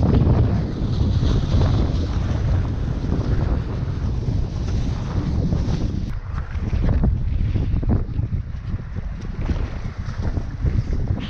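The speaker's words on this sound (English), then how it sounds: "Wind seems reasonably strong" Strong wind roars and buffets the microphone outdoors in a cow paddock while a kite is launched, a loud, gusty, continuous rumble with brief dips and surges.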